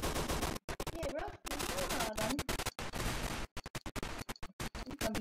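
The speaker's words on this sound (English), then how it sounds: "I put a whole entire round into that zombie and he did not die." Rapid bursts of gunfire shooting a zombie in a video game, clustered volleys broken by short silences, with a voice talking over parts of the shooting.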